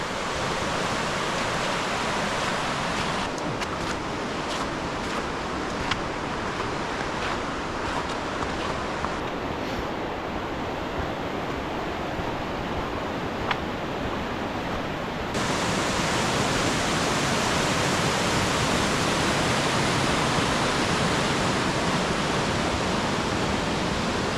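A winter creek rushes past boulders, a loud unbroken wash of flowing water that fills the whole stretch and grows slightly fuller toward the end, with a few faint clicks on top.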